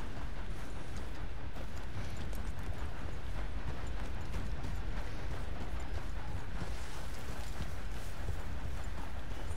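Horse hooves clip-clop steadily on the ground in Red Dead Redemption 2, a continuous fast patter sitting close under a dense, rumbling game soundscape with no clear talking.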